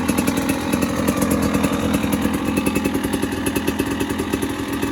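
A KTM 300 XC-W two-stroke dirt bike engine warming up after fresh coolant and oil, a steady loud rapid burble with regular pulsing beats, close by and running alone without talk.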